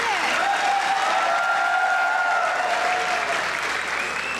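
Steady, loud applause from a studio audience at a Pakistani comedy talk show, sustained evenly throughout with faint voices lingering over it.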